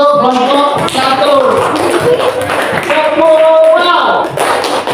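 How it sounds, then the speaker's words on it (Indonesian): A classroom group claps for a student team after its presentation, with short scattered clapping bursts mixed with voices and lively chatter from the room. "Kita kasih tepuk tangan untuk kelompok 1."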